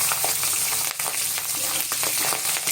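Small bacha fish frying in a pan give off a continuous close sizzle with scattered crackles and a brief dip partway through.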